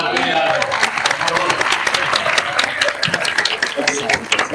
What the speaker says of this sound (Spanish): Un aplauso a Juan Antonio Hidalgo